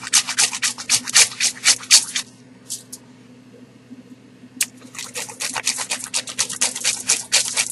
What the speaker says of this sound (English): We're using a cheese grater here and regular aluminum foil.